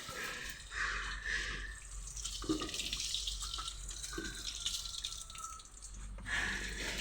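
Water poured into a container during preparation of wild yam, a continuous splashing and trickling flow with a few drips, moderately close and steady throughout.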